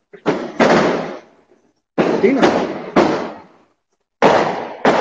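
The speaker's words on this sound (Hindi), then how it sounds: "आज थोड़ा सा पटाखा सब के चलते जो है डिस्टर्ब हो रहा है थोड़ा।" Firecrackers exploding outside, heard as loud sharp broadband bursts in irregular clusters with decaying tails, separated by short gaps; a voice speaks briefly.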